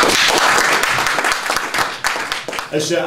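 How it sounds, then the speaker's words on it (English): An audience at a Huddersfield Town FC community event claps and applauds loudly and close by for about three seconds, the crackle fading as a voice starts speaking at the end. "So give them a big clap, guys, please."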